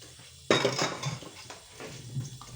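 Dishes and cutlery clatter and clink near the microphone, with running water rushing in the background as items are handled and washed.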